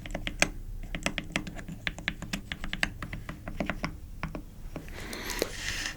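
Close, crisp clacking of MagForce 68 mechanical keyboard keys pressed one after another in an irregular rhythm, with a few heavier, deeper strikes from larger keys such as shift, and a brief rustle near the end.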